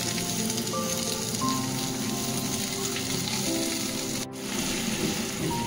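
Vegetables fry and soften in hot oil for a chilli paneer, giving a steady, close sizzle throughout with a brief dip near the end as they are stirred.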